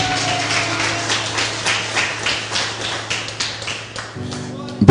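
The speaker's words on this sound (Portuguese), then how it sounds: "dê uma salva de palmas ao Senhor Jesus" A congregation in a Sunday worship service claps in a quick, rhythmic pattern, with a sustained tone from an organ or keyboard underneath and a brief louder sound at the end.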